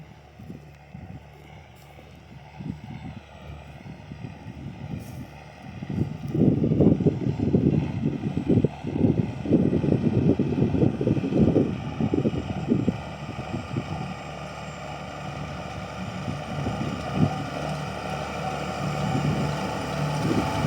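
Tractor engine droning steadily as it drives to another field after sowing barley, a continuous low rumble that swells louder partway through, with wind buffeting the microphone and no talk.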